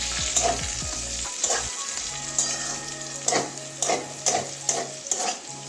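Potatoes and pointed gourd fry in a hot pan for a mashed potato-gourd dish, a steady close sizzle broken by a series of sharp scraping stirs, with no talking.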